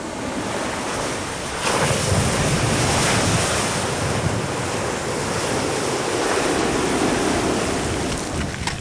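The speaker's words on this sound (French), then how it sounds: "Il y a la lave, mais aussi les vagues qui frappent, bouillantes." Boiling sea waves crash near flowing lava on an active volcanic coast, a continuous surging roar of surf with heavy wind buffeting the microphone.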